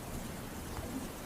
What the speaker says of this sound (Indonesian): hujan yang turun sejak tadi mulai menderas, beserta suara petir yang semakin keras